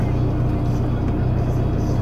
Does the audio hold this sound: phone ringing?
no